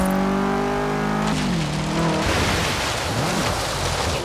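Race car engine from Forza Horizon 3 on a mixed surface lap course, loud and close, revving and shifting pitch with rising and falling tones, over a hissing wash of tyre and gravel noise.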